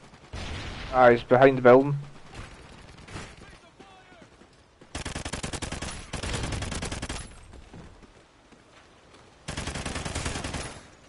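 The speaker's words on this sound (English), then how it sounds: "He's shooting us, Adam." Video game enemy gunfire aimed at the players, sustained loud automatic bursts in several separate volleys with pauses between, preceded by a brief tonal game sound, while a voice speaks briefly.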